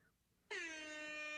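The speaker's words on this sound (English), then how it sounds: "One reggae horn." A reggae air horn blares in one loud, sustained blast that starts abruptly after a brief quiet moment and holds steady to the end.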